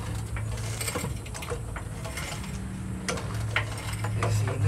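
A car jack is cranked to lift a tire off the ground during a tire change, a continuous close mechanical ratcheting and grinding with rhythmic clicks and a low hum beneath.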